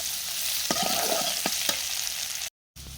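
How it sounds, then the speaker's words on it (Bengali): Small potatoes coated with turmeric fry and get stirred in a pan, giving a steady loud sizzle with a few scraping strokes before a brief cut to silence near the end. "আর দেখেন আলুগুলো কিন্তু সুন্দরভাবে লাল লাল করে ভেজে নিয়েছি।"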